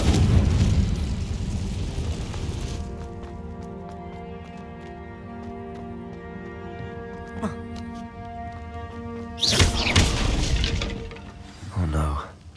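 An explosive Confringo spell blast from the Hogwarts Legacy video game bursts with a sharp crackling boom near the end, preceded by a sustained hiss and layered musical tones, with a second short burst after it.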